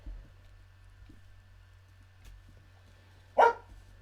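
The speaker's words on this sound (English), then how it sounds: "That's my dog Cassie in the background." A pet dog barks once in the background of a quiet indoor room, a single short bark near the end, fairly distant and alone with no talking.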